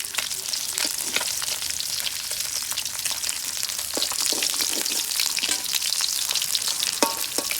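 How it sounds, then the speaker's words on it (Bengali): Katla fish fries until crisp in plenty of hot oil in a kadai, giving a continuous bright sizzling hiss scattered with small popping crackles, close up and steady, with no talking. "মাছটা একটু করকরা করে ভাজলাম।"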